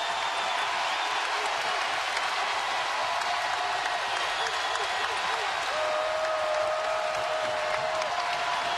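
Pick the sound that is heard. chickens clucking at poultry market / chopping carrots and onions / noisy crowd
noisy crowd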